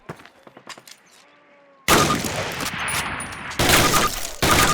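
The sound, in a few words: gunfire from rifle in Call of Duty video game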